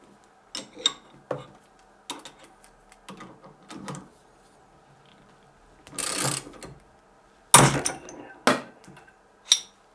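A Parkside PMS 3 A1 nut splitter being tightened onto a nut gives bursts of close ratchet clicks, then loud, sharp cracks as the nut splits, with short pauses between.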